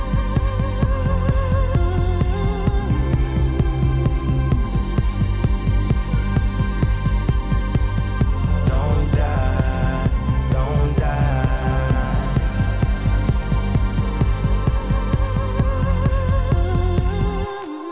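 A thumping hip hop beat with heavy, steady bass kicks and layered melodic synths, loud and continuous, with no voices.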